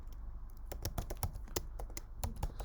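Rapid typing on a computer keyboard while writing code, a steady run of crisp, close key clicks with uneven rhythm and occasional harder strokes, heard alone without talk.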